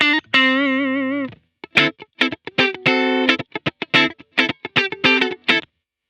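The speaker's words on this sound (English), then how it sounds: "Oh, the chorus is on." Electric guitar played through a Kemper Profiler amp with chorus switched on, a long sustained distorted note followed by quick, choppy staccato stabs and short phrases, loud and close.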